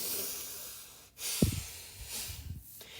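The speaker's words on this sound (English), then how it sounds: "Take a deep breath." A single deep breath taken close to the microphone, a sharp nasal intake followed by a longer, audible breathy release.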